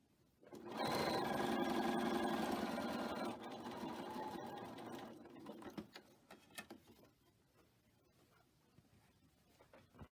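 A sewing machine stitches quilt pieces in one loud, steady whirring run for a few seconds, then slows and stops, followed by quieter handling clicks and rustles.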